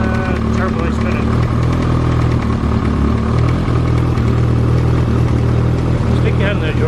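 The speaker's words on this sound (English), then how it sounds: "I just realized it's noisy. The O2 sensor's out of it." A Honda Integra turbo engine runs loud and steady with its O2 sensor removed, a continuous rough drone with metallic clatter and a faint turbo whine, heard close up from start to finish.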